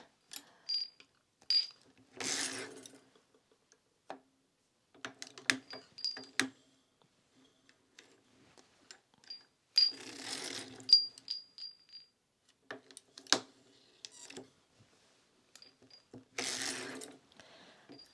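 A hand-cranked circular sock knitting machine working sport weight yarn into heavy ribbed boot socks gives off quiet, intermittent mechanical clicks and clattering bursts, spaced irregularly with pauses between them.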